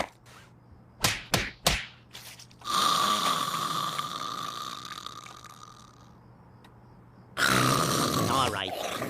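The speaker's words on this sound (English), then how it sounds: "Come on, you're snoring." Cartoon character snoring: a few sharp slaps open it, then a long, loud, drawn-out snore tone fades away, and a second snore swells up near the end.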